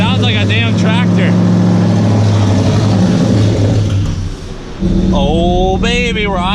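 A car engine idles with its exhaust chopped off and no mufflers, giving a loud, steady, rough rumble throughout while people talk excitedly over it.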